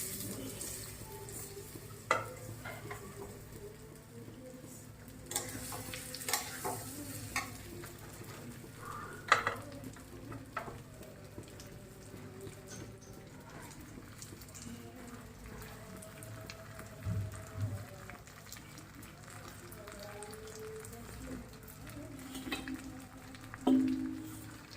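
Cashews and raisins are stirred in a pan while frying for pulao, a quiet, faint sizzle with scattered scraping and clinking spoon strokes at irregular intervals.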